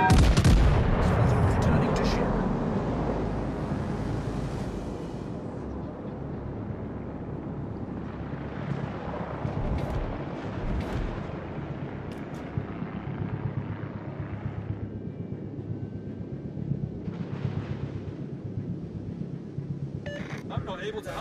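Naval artillery fire in World of Warships: Legends: a loud, close boom opens, then rolls into a long rumble with wind-like noise. Fainter shots follow, and a voice talks over the action.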